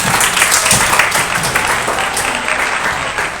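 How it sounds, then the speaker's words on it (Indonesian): A classroom of students applauds together, a dense, loud, continuous patter of many hands clapping at once, close by, with no speech over it. "Tepuk tangan untuk kita semua."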